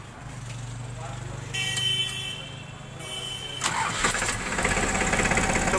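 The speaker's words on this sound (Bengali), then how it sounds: "তো চলুন গাড়িটা স্টার্ট করি।" A Powertrac Loadmax Euro 50 tractor engine cranks with a whirring starter, catches and settles into a loud, rattling idle nearby, with a person talking alongside.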